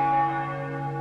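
Church bells ring in a village, a sustained bright metallic tone with long humming overtones, steady and moderately loud, no voices.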